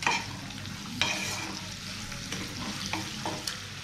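Chilli fish sauce being stirred in a frying pan, with a steady sizzle broken by several sharp scrapes and clacks of the spatula against the pan, close and clear with no talking.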